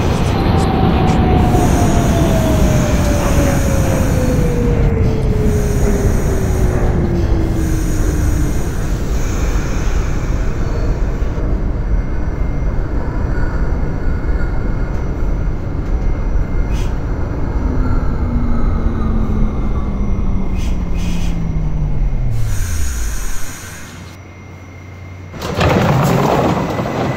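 An R68 subway train in the OpenBVE train simulator runs with a loud, steady rumble. A falling motor whine winds down as it slows, and the train briefly quiets near the end before the noise returns.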